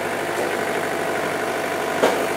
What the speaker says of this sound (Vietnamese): Bây giờ bác giám đốc sẽ chạy thử nổ máy thử nhá.